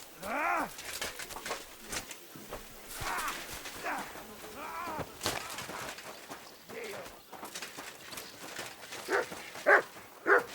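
A dog in Kingdom Come Deliverance II barks in a few short bursts near the start and end, fairly faint amid game ambience, hoof clops and spoken voices.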